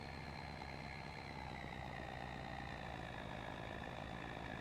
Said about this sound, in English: it does seem like a lot of the cab over trucks tend to be louder than the regular, front engine mount trucks